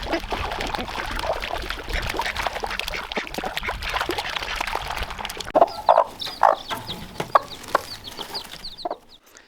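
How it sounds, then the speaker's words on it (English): Backyard chickens and ducks cluck and chatter in a busy, continuous flock noise, with louder clucks standing out near the end before it drops away. "we have chickens and ducks"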